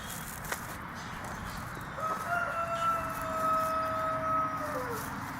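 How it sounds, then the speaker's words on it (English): A rooster crows once, a long drawn-out call rising then trailing off, standing clearly above a quiet outdoor background. "My rooster."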